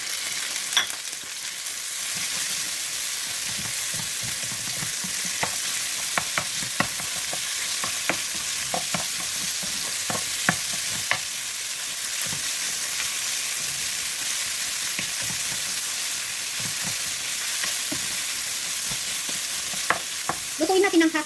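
Minced pork frying in a pan with garlic, a steady high sizzle broken by frequent scraping clicks of a utensil stirring the meat throughout, close and moderately loud, no voices.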